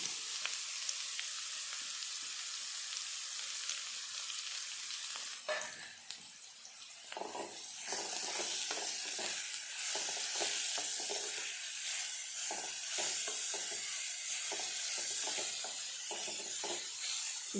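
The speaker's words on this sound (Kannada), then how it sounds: "ಚೆನ್ನಾಗಿ ಹಸಿ ವಾಸನೆ ಹೋಗೋ ತನಕ ಹುರ್ಕೋಬೇಕು, ಲೈಟಾಗಿ ಉರಿ ಇಟ್ಕೊಂಡು" Grated raw papaya sizzles and fries in a pan over low heat with garlic, a soft steady hiss broken by intermittent stirring scrapes.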